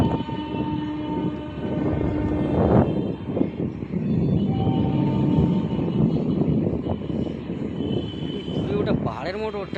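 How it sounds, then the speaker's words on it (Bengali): A local commuter train rumbles past near the Howrah–Belgachia area, its steady rolling clatter filling the whole stretch, with a brief horn-like tone near the end and people talking over it. "লোকাল ট্রেন যাচ্ছে, বা একটা ঢুকছে আবার একটা বেরোচ্ছে।"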